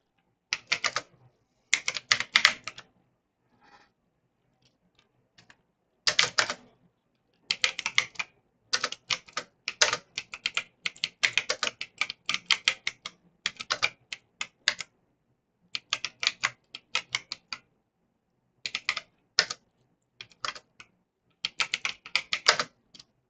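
Typing on a computer keyboard comes in bursts of rapid, crisp key clicks separated by short pauses, close and clear over near silence, with no speech.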